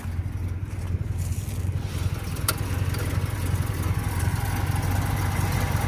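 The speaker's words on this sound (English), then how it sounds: "Very sweet engine in there." A Connaught-built MGB V8 fast road and track car idles with a deep, steady low rumble, close and even throughout, with one brief sharp click partway through.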